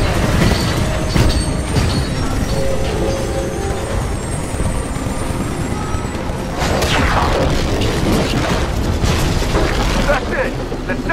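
The Sentinel ship exploding in the Titanfall video game, a loud, rumbling boom with roaring debris and mechanical clatter that rolls on for several seconds under radio voices talking.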